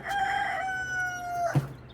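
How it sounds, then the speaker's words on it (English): A rooster crows in one long, drawn-out cock-a-doodle-doo with clear ringing tones, then a short low thump. Steady farmyard background, no talking. "Got chickens flying all around me."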